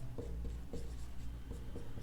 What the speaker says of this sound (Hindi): मैं पूरी तरह से लिख देता हूं